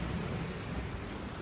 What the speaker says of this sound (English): Going through a rain squall right now.